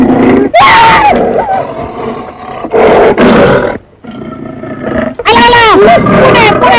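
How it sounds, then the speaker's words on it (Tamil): Loud roars from tigers and bears in a Tamil film sound effect come in several long, snarling bursts with brief gaps between them, close and dominant, with no talk over them. "புலி கரடை எல்லாம் உருமுறை சத்தம் கேட்குது."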